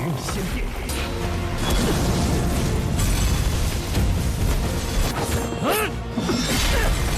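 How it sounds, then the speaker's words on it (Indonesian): A fierce spear fight in an animated series throws out dense booms, crashes and clashing impacts that pile up loud and continuous, a few sharp bursts standing out near the end. "melakukan pertarungan begitu sengit dengan senjatanya masing-masing sampai menciptakan ledakan luar biasa"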